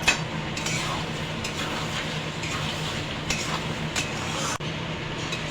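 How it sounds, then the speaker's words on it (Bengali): Mutton cooks with garam masala powder in a pot for biryani while a spoon stirs it, a low continuous sizzle with soft scrapes and occasional clinks against the metal. "এটা মিশিয়ে দেবো এবার নাড়িয়ে"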